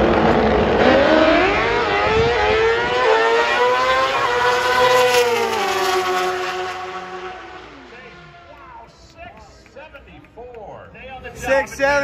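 A Vance and Hines Mission Foods Pro Stock motorcycle makes an NHRA drag race run. Its engine gives a loud, close, high-revving howl that sweeps in pitch through the gear changes, then fades into the distance, with faint crowd and announcer noise at the end.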